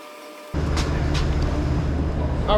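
A vehicle lift begins lowering a 2021 RAM 1500 Hemi pickup, starting with a sudden low mechanical hum and drone that holds steady and loud right after a quiet start.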